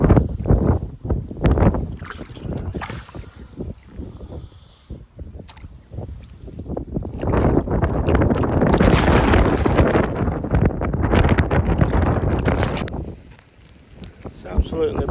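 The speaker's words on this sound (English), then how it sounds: "It's absolutely blowing a hoolie, lashing down." Strong gusting wind buffets the microphone with heavy rain lashing down outdoors in winter at a carp fishing spot, a loud broadband roar swelling and easing throughout, with someone talking over it.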